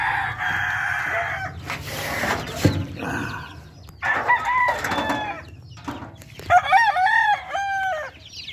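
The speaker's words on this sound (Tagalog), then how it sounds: "yung sisiw na malaki, lalaki, dami" Large young cockerels crow in several raspy, wavering calls, mixed with clucking and flock chatter close by, in bursts separated by short pauses.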